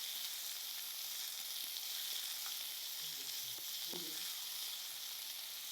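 Ivy gourd and potato pieces cook with turmeric in a covered pan, making a faint, even sizzling hiss with a few quiet knocks partway through.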